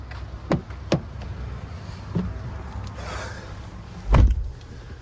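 A driver climbs into a 2023 GMC Canyon AT4 Premium pickup: a few soft knocks and taps of seat and trim, a faint rustle, then one heavier dull thud near the end, all close and fairly quiet.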